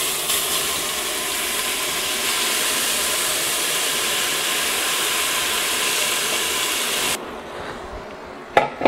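Chopped vegetables hitting a hot pan where pot roast was just seared, giving a steady loud sizzling hiss that cuts off abruptly near the end, followed by a quieter clatter.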